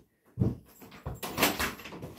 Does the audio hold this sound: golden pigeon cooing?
no